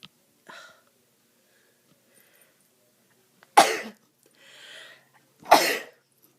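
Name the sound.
sneeze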